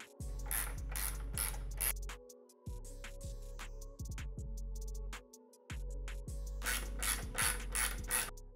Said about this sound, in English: Now I'll reinstall the support bracket strut screws.